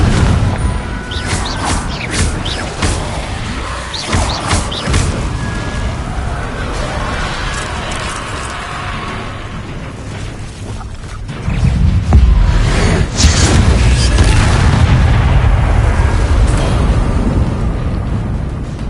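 Confringo fire blasts exploding in Hogwarts Legacy, repeated booming bursts with rumbling eruptions, growing denser and heavier toward the end amid chaotic combat noise.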